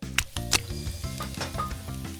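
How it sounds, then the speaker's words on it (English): Vegetables stir frying in a pan, a steady sizzle with a few sharp clinks and tossing sounds near the start, playing under bright background music. "Plop the veggies into a pan and stir fry."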